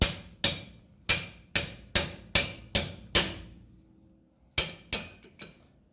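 Sharp metallic hammer strikes on a threaded part of a 1939 Plymouth car ring out in a steady series of about eight, a pause, then two more, each blow decaying quickly into quiet.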